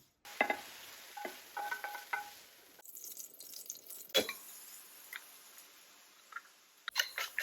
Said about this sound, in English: I'm frying up a rissole, which is meat from the farm